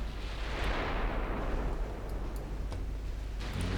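Flash fire explosion aboard the battleship Montcalm in the naval game Ultimate Admiral Dreadnoughts, a loud, sustained roaring rumble that fills the whole stretch and stays dense and heavy without a break.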